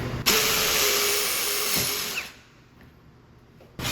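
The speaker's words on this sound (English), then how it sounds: "Let's continue to drill the rest of the hole." A power drill runs at high speed, boring a hole during installation of a MAAX Aura semi-frameless bypass sliding shower door. A steady, bright whine holds for about two seconds, then drops off into quieter background.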